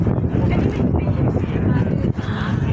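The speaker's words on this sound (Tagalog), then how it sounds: "Tapos masyado pang mahangin." Strong wind buffets the microphone in a loud, continuous roar with gusty low rumbling throughout.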